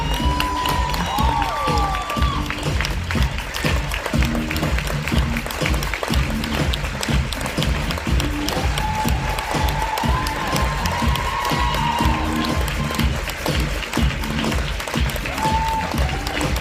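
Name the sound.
audience applause and cheering for a guest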